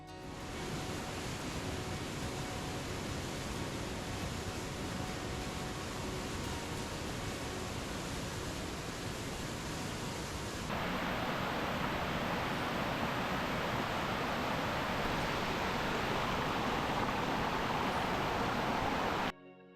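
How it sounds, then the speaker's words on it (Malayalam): The three-tiered Palakuzhy waterfall makes a steady, roaring rush of falling water that fills the whole stretch, growing slightly louder and brighter partway through. No voices. "പാലക്കുഴി വെള്ളച്ചാട്ടം മൂന്ന് തട്ടുകളായിട്ടാണ് താഴേക്ക് പതിക്കുന്നത്"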